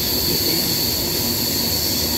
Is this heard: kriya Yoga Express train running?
yes